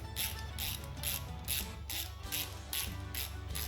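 A ratchet tightens bolts on the engine mounts of a Coyote-swapped Cobra, giving a close, crisp clicking in regular rhythmic bursts, about eight strokes back and forth, with no talk.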